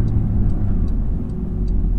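A 2022 Porsche 911 GT3 gasoline engine while driving, a loud, steady low rumble heard close from inside the car, with faint ticking in the background.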